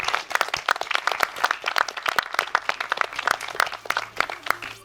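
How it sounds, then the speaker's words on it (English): An audience claps steadily through a finals event of a doctoral research competition, a dense, lively wash of many hands sustained from start to finish with no talking over it. "Another round of applause for Hannelore."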